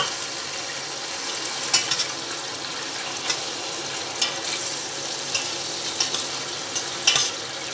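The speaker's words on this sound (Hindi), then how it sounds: "अब हम डालेंगे जो टमाटर रखे हुए हैं और इनको डाल के भूनेंगे" Tomatoes hiss loudly as they fry with golden-browned onions in a pan for a karela (bitter gourd) onion dish, a dense continuous sizzle with soft periodic stirring scrapes and no talking.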